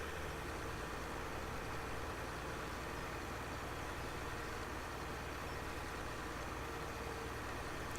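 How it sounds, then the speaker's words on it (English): A tractor in Farming Simulator 17 idles with a steady, deep rumble that carries on without a break, a constant low drone with no voices over it. "the sound on this tractor is spot on"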